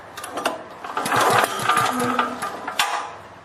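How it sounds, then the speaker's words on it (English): A small generator engine with its spark plug removed is pulled over by the recoil starter, giving a brief raspy whirring crank with uneven pulses, close and loud, and no voices. "now pull the engine over."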